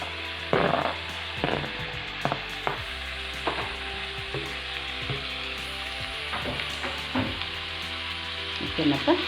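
Onions fry in oil for a drumstick fry, a constant close sizzle broken by repeated scraping strokes of a spatula against the pan, with a steady hum in the background.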